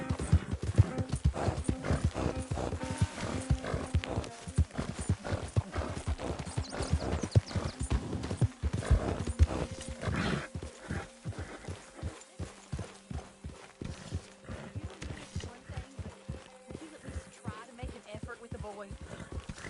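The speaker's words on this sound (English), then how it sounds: "get that horse out of here" Horse hooves clip-clop in a steady walking rhythm in the video game Red Dead Redemption 2, with occasional snorts, while people talk over much of it.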